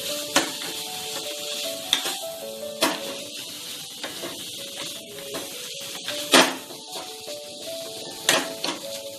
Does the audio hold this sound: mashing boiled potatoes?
yes